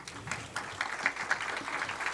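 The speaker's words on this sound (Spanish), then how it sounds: "Un aplauso, por favor." Audience applause fills a conference hall at a Spanish-language forum on military intervention in public security, a dense, steady patter of clapping lasting about two seconds at moderate loudness.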